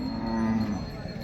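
A single low, drawn-out moo from a bull at a cattle market, close by, over a steady background hum.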